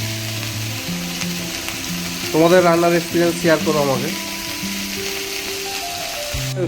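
Vegetables fry in a pan with ginger and tomato, giving a soft, constant sizzle beneath a voice talking throughout.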